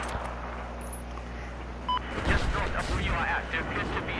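A sniper rifle shot in the game Battlefield booms out midway as a sharp crack with a rumbling tail, amid game beeps and low background noise, with talk over it.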